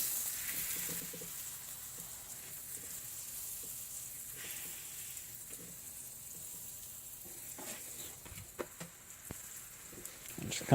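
A bacon and cheese quesadilla fries in a hot pan, giving a steady low sizzle throughout with a few sharper crackles and scrapes near the end as a spatula presses it down.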